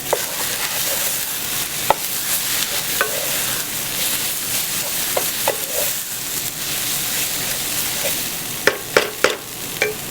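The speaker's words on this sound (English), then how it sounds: "Stir it nicely." Spices stirred and frying in a pan for saag paneer, cumin powder and red chili among them, give a steady close sizzle with scraping spoon strokes and a few sharp clinks of utensil against metal.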